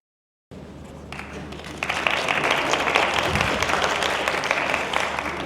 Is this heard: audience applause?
yes